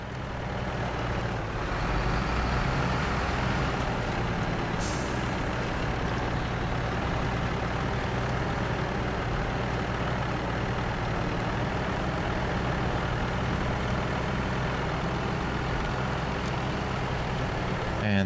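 Truck engine labouring uphill in the SnowRunner video game, a steady, heavy low-pitched drone that holds at constant loudness for the whole stretch, with a brief hiss partway through.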